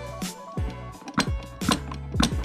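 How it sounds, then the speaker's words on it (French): Wrench working to crush a tin seal on top of the cylinder head of a TM KZ10C kart engine, a series of quick ratcheting metallic clicks and creaks in short bursts, close and moderately quiet. "On vient écraser l'étain en haut de la culasse."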